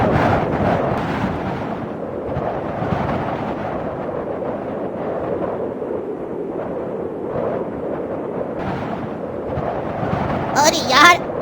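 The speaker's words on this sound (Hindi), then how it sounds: "अरे यार, ये इतना तेज हवा कहाँ से लगने लग गया? अरे ये तो आंधी आया है।" A strong storm wind kicks up suddenly on a hot summer night, a loud, continuous roaring rush with heavy rumbling gusts that swell and ease throughout.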